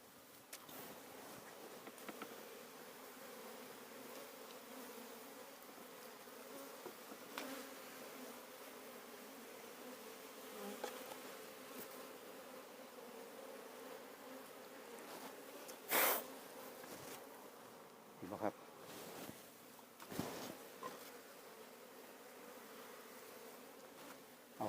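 Honey bees buzzing around a honeycomb make a faint, steady drone that hums on throughout, with a few brief louder clicks and rustles near the end.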